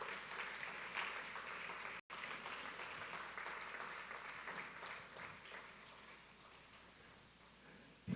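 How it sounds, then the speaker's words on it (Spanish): Worshippers in a church applaud God's grace during a Spanish-language sermon, a long, even wash of clapping that continues after a brief dropout and slowly fades toward the end. "Alguien debe aplaudir la gracia de Dios"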